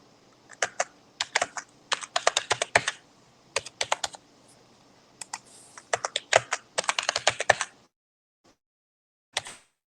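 Someone enters a new password on a computer keyboard in quick bursts of crisp, close keystrokes with short gaps, then a longer pause and a final brief flurry.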